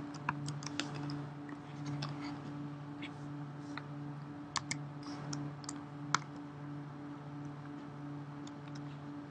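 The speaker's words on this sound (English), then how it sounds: "Go ahead and type what you would type in." Scattered keystrokes tap on a computer keyboard, close and fairly soft, in short irregular bursts with pauses between, over a low steady electrical hum in a quiet room.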